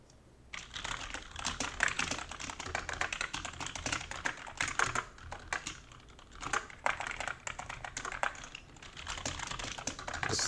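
Rapid typing on a computer keyboard rattles on steadily for about ten seconds, close and fairly quiet, with brief pauses and no talking, at a desk during a programming contest solution session.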